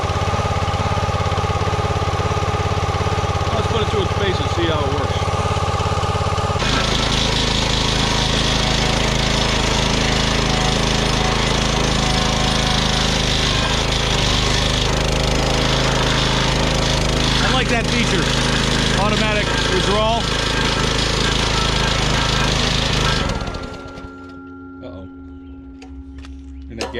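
A YARDMAX YU2566 25-ton gas log splitter runs close by with a loud, steady engine drone. The pitch shifts as the load changes partway through and the engine labours over the split, then it cuts off near the end, leaving quiet clicks.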